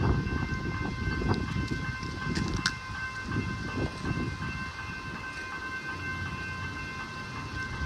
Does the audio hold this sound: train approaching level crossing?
yes